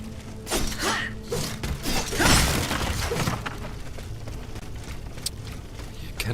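Booming cannon blasts and crashing impacts rumble through a dense, noisy game battle, with heavy thuds and shattering debris.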